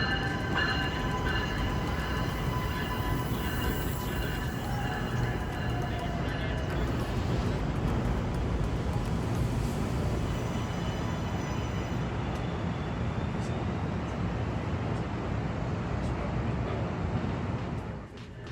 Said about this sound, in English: our train emerging into the platforms of New York Penn Station.